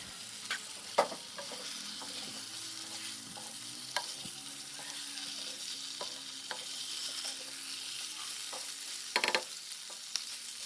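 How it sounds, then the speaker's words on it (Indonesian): Beef being stirred with spice paste in a frying pan for rendang, a soft steady sizzle under intermittent scraping and clinking of the utensil against the pan, with a sharper clatter near the end. "masukkan semua daging sapinya, aduk merata dengan bumbu"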